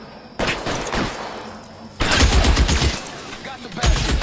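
Rapid gunfire in the L.A. Noire video game on Xbox 360: a burst of shots cracks out, a short lull follows, then heavier, denser volleys erupt, loud and close.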